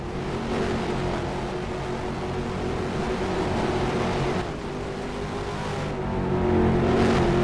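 ROX Mod race cars roar around Richmond in a steady, loud engine drone that swells and fades slightly as the pack passes, with no break in the noise.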